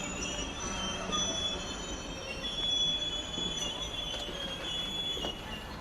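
Class 66 diesel locomotive 66704 at Doncaster, wheels squealing steadily with a high metallic whine as it grinds slowly to a halt, close and continuous with faint rail clatter beneath.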